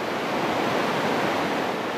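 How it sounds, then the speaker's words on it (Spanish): Elephant Waterfall at Nam Ban near Dalat, Vietnam, a 30-metre cascade, roars as a steady, dense wash of falling water, loud and close with no pauses or voices. "Visitamos la llamada Cascada del Elefante en Nam Ban."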